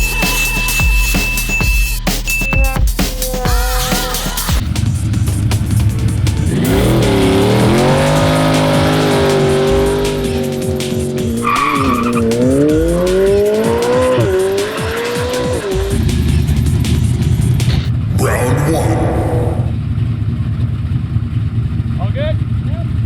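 Supercars, including a McLaren, race past on a track with engines roaring and tires squealing as they skid through a corner, loud and continuous, while people nearby talk over the noise.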